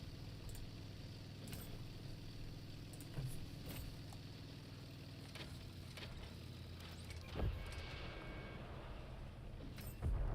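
In the World of Tanks console game, a modern armored vehicle's engine runs as a continuous low rumbling drone for about ten seconds, with occasional clanks and bursts over it and no talk.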